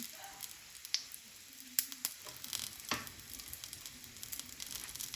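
Chicken tandoori sizzling in a pan in a home kitchen, a soft steady frying hiss broken by scattered pops and stirring clicks, fairly quiet and close.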